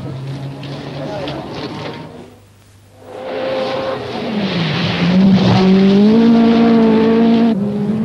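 A Peugeot rally car races at the 1984 Thousand Lakes Rally in Finland, its loud engine briefly dipping before surging back and climbing steadily in pitch as it accelerates close by.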